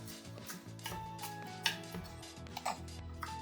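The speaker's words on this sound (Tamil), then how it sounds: "அடுத்ததாக நம்ம கொத்தமல்லி இலையும் கட் பண்ணி எடுத்துக்கலாம்." A knife chops coriander leaves on a board, crisp quick taps in an uneven rhythm with a couple of sharper knocks, close and fairly quiet.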